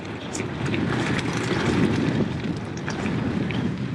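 Steady, loud wind buffets the microphone as a rider descends an off-road bike trail near Hawes under low cloud, a continuous low rumble with no talking.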